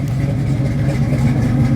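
Engine idling a little higher than normal, a steady low, even drone with slight fluctuation, loud and close throughout, no voices.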